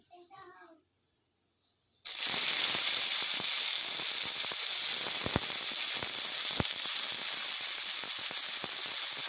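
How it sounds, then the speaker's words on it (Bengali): Brief speech, then a sudden loud burst of sizzling as sliced bitter gourd hits hot oil in a wok, continuing as a dense crackling hiss with scattered pops. "আমার কড়াতে হিট হয়ে গেছে এবার আমি করলাগুলোকে ভেজে নেব"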